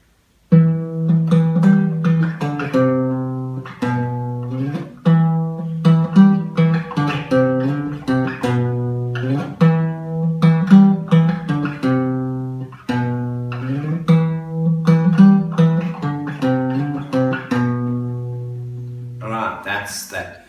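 Electric guitar plays a riff, a low repeated note pattern picked clearly and evenly, close and alone, looping several times.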